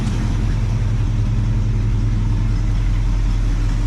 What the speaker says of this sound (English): It's got an exhaust leak, which you can hear.